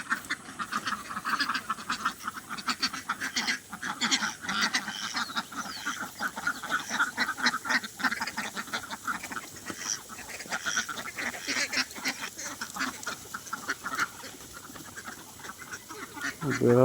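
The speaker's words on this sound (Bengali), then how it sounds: "আর হাঁসগুলো ছেড়ে দিব এখন।" Ducks on a mixed poultry farm quack in a dense, continuous chorus as they are let out, with wings flapping, heard moderately faint and steady with no talking.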